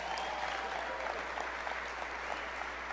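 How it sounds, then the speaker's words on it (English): A crowd at a motivational speaking event claps in a dense, sustained wash of applause, fairly distant and even throughout, with no talking over it. "you can clap"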